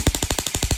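An E&C 327 AEG airsoft rifle fires full auto, a short, sharp burst of about nine rapid evenly spaced shots, loud and close with no talking.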